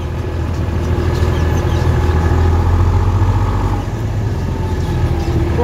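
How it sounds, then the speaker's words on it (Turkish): The engine of a 2014 New Holland TT55 tractor runs steadily at a low, rumbling idle, loud and close, with no voices over it. "Gerçekten 10 numara bir traktör."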